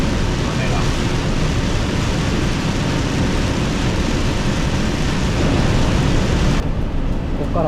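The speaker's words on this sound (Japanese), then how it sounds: "すごいな、雨が。" Heavy typhoon rain drumming continuously on a long-haul trailer truck on an expressway, a dense loud roar mixed with road and engine noise, any thunder lost in the wash, with no talking.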